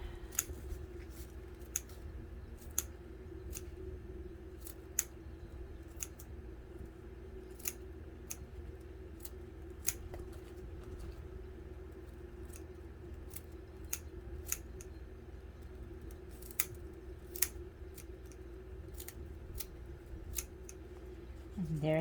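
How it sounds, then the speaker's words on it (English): Small trimmers snip straw for a gnome scarecrow craft in sharp, close clicks spaced irregularly over a quiet background, while a voice talks in the room. "I use my little trimmers here so I can trim the straw."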